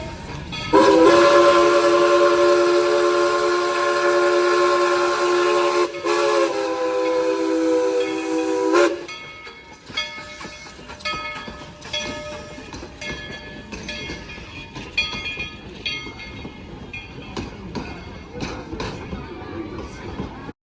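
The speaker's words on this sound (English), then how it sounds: "I decided to just rush over there to go see if I could catch the train coming back" A loud heritage-railway train horn at Tweetsie Railroad blares for several seconds as the train rolls past, followed by rhythmic clacking of wheels over rail joints.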